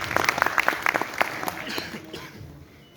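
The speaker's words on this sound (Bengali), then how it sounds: "আমি আয়োজক কমিটির সবাইকে হাততালি দিয়ে অভিনন্দন জানাচ্ছি।" Audience at a daylong workshop applauding the organising committee: brisk clapping from a modest crowd that thins and fades out after about two seconds.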